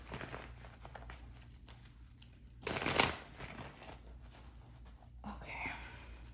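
Tarot cards riffle-shuffled in one brief, crisp burst of papery flutter, with a soft whispering voice and faint rustling around it.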